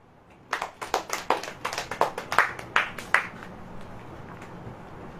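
A congregation at a Hindi-language Christian sermon claps hands in short, sharp, fairly rhythmic bursts, about a dozen distinct claps over three seconds, moderately near, before falling quiet.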